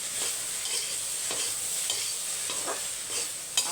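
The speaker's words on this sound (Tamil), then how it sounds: "ஒரு 10 நிமிஷத்துக்கு ரோஸ்ட் பண்ணி எடுக்கணும்." Vegetables roast in a frying pan with a constant sizzle, while a spoon stirs them and scrapes now and then. Nearby, no voices.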